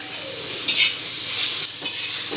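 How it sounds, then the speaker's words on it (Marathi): Garlic, ginger and curry leaves roasting in a hot pan give a loud, continuous sizzling hiss with small crackling bursts throughout. "त्यामध्ये आपण घालूया लसूण, आलं आणि थोडं 2-3 कढीपत्त्याची पानं टाकूया."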